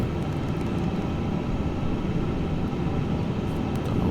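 Airliner jet engines idling and rolling on the ground during taxi in a flight simulator, a steady, loud broadband rumble with a low roar that holds even throughout with no talk.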